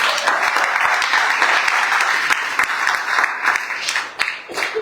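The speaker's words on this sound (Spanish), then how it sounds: "Le damos un aplauso al Señor." Church congregation bursts into loud, full applause, dense clapping with a few sharp individual claps standing out as it tapers near the end.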